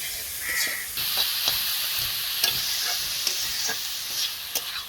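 Banana flower frying in a pan in a village kitchen, stirred with a utensil: a constant loud sizzle with scraping strokes and light taps against the pan, no voices.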